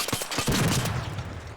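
Gunfire crackles in a video game as a quick burst of sharp shots layered over the game's background sound, loud and close for under two seconds.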